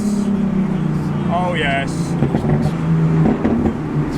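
A BMW Z4's engine revs hard from close by inside the car, a loud, rough drone that rises and surges, while occupants talk briefly over it.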